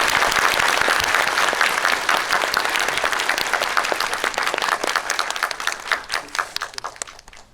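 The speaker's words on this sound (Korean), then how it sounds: "큰 박수로 맞이해 주시죠." A crowd claps enthusiastically, the applause dense at first and then thinning into scattered, individual claps as it fades away.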